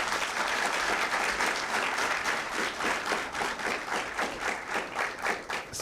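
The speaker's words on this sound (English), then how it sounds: "So clap for all of you" An audience at a campus placement orientation inaugural ceremony claps together, a dense, sustained wash of applause that thins slightly toward the end.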